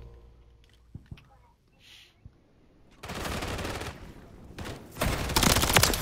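Gunfire in a ranked Modern Warfare 3 match: quiet clicks and small taps at first, then loud sustained bursts of automatic fire from about the halfway point, rising to dense rapid shooting at the end.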